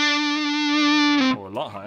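A fuzz pedal on electric guitar holds a sustained distorted note, then cuts out sharply as the volume drops severely, leaving a quieter warbling tail.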